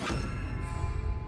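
Expelliarmus spell cast in the video game Hogwarts Legacy, a brief bright magical clang with a sustained shimmering ring over a low rumble, loud and close.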